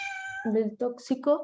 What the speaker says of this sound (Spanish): Ay, perdonen el gato.